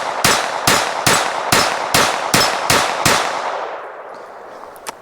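Ruger SR22 .22 pistol fired in a rapid string of eight quick, sharp shots at a steel plate, evenly spaced and loud, each with a bright ring, then a fading tail and one faint later tap.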